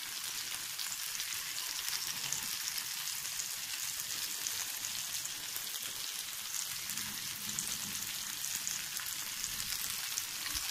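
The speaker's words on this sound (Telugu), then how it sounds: "ఆయిల్ వేసేసి అందులో ఆనియన్స్, ముందుగా కట్ చేసి పెట్టుకున్న టొమాటో ముక్కలు, నెక్స్ట్ క్యాప్సికం ముక్కలు కూడా" Onion, tomato and capsicum pieces fry in hot oil for a capsicum chutney, a steady bright hiss and crackle continuing evenly throughout, with no talking.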